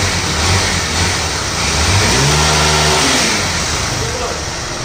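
A Honda Titan 150 motorcycle fitted with a 190cc engine revs close by, its note rising and falling in pitch over a few seconds, with someone talking over it.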